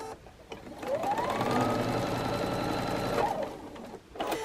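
A sewing machine stitches small pieces of quilt fabric at a short stitch length, a steady close-up mechanical whir running for about three seconds between quieter handling sounds.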